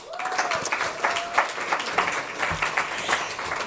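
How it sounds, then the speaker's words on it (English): Applause from the guests at a fellows' tenth anniversary celebration, a steady wash of clapping that runs the whole time with a voice cutting through briefly near the start. "give a round of applause for you guys"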